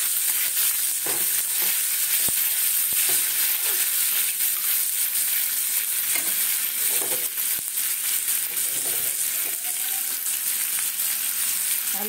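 Potatoes frying in a pan at home, a steady dense sizzle throughout with faint stirring scrapes and small pops, close and continuous, no talking.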